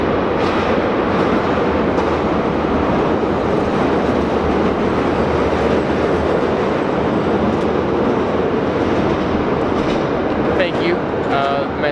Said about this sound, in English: Metro here in Chicago